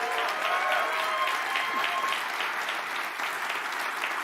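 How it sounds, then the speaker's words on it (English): A large audience at a McLaren 2023 livery launch event breaks into a big round of applause, a loud, dense and steady wash of clapping with a faint crowd murmur. "Can we give them a big round of applause?"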